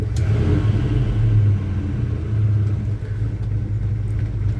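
A 1984 Chevy C10 pickup, originally a six-cylinder three-speed, idles steadily with a deep, continuous low rumble close by and no one talking.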